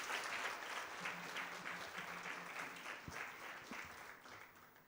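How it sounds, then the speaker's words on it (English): A conference audience gives a keynote speaker a steady round of applause at an East Africa capital markets conference, a dense sustained clapping from a sizable crowd that stays fairly even and fades slightly toward the end. "Can I request we give Patrick another big round of applause?"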